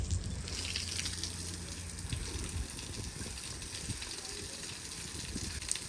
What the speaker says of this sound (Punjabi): ਪਾਣੀ ਥੋੜਾ ਥੋੜਾ ਤਾਂ ਆਉਂਦਾ